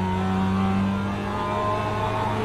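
A race car engine in iRacing holds a steady droning tone while trail braking into a corner, loud and continuous with a slight pitch dip, no talk.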